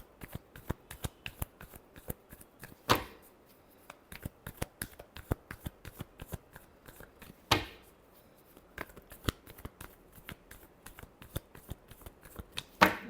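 Tarot cards are shuffled by hand in quick, close crisp riffles and taps, with three louder cascading riffles standing out at intervals against an otherwise quiet room.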